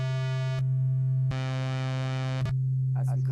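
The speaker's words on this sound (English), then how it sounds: "This is the sine wave," A pure sine wave tone used to demonstrate basic waveforms, sounding as a steady, clean hum that is briefly interrupted twice by short cuts, with a few spoken sounds near the end.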